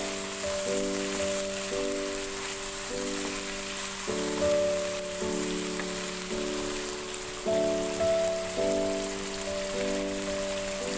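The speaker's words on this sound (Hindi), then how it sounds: "एक से 2 मिनट मैंने चिकन को ऑयल में तेज आंच पे फ्राई किया है।" Chicken fries in oil over high heat, giving a steady hissing sizzle that runs without pause beneath a looping melodic music track.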